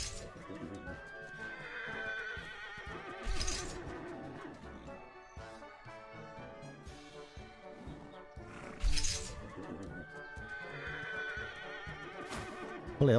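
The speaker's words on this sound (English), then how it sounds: "Holy hell, horsey. You're noisy." A horse neighs in a video game, with loud whinnies standing out at intervals against background game music and ambience.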